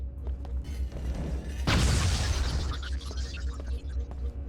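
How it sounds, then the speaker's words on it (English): An explosives crate is shot and blows up in Deus Ex: Invisible War: a sudden loud boom with a rumbling burst and debris tail that fades over a couple of seconds, following quieter background game sounds. "It has the desired effect of destroying the explosives in the crate."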